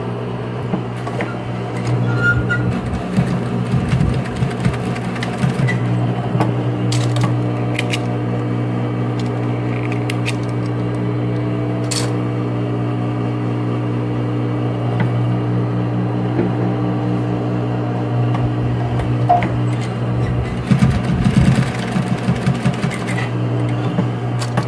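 A sewing machine runs steadily and loudly while stitching a necessaire box, its motor humming without a break, with small clicks and shifts in pace as the seam is sewn forward and then backstitched.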